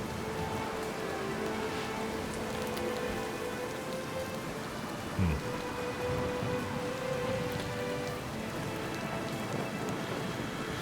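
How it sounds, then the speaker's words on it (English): Dense, steady rain hisses under a low roar of wind at sea, driving across a ship's decks, with a brief deep rumble partway through; no voices. "The wind drives rain across the decks."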